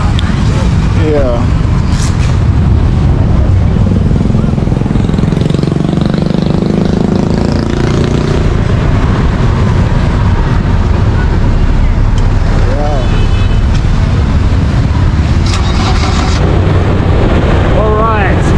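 Vehicle driving on a road in Cambodia, a continuous rumbling engine and road noise with wind buffeting the microphone, occasional passing sounds and a voice speaking intermittently over it.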